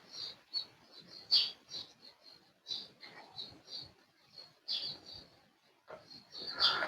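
Small birds singing and chirping by the water beneath a bridge at night, repeated bright high chirps in quick irregular bursts, fairly faint and close, with no voices.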